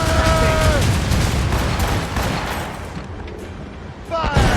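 Ship cannons firing during a naval battle in Assassin's Creed Rogue: heavy booms and gunfire fill the scene in a loud continuous barrage, with shouted crew voices and game speech on top.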